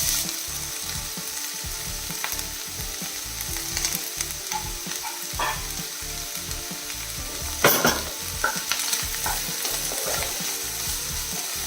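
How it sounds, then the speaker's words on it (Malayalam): Four sliced onions sauté in a pan, a constant moderate sizzle under rhythmic scraping and stirring strokes, with a few louder clanks of the utensil against the pan and no voices. "4 സവാള നല്ല രീതിയിൽ വഴങ്ങി വെക്കണം"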